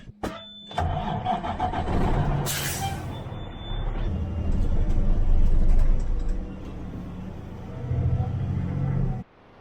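Truck started on a South Dakota farm at harvest time: the engine cranks and catches into a rumbling idle, with a sharp hiss of air brakes and engine rumble that swells and settles over several seconds.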